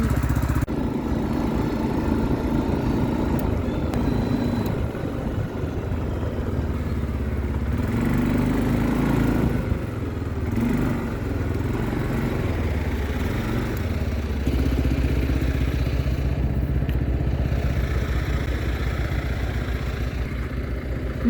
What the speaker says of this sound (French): je vais le suivre en quad